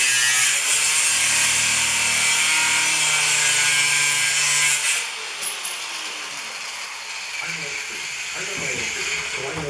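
A pickaroon is cut from metal stock in a workshop, with a loud, continuous grinding rasp for about five seconds, then quieter scraping and handling noises.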